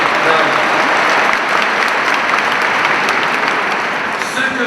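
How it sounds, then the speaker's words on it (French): An audience in a church hall applauds, a dense, continuous wash of clapping from many hands that stays loud, then eases slightly toward the end. "Là, vous pouvez m'applaudir."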